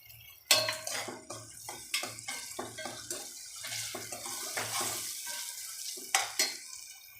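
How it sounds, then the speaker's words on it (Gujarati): Onions sautéing in a pan for Indian-style white sauce pasta, with a steady sizzle broken by repeated scraping and clinking of a spoon against the pan, close and moderately loud, with no talking. "એને 2-3 મિનિટ આપણે સાંતળીશું."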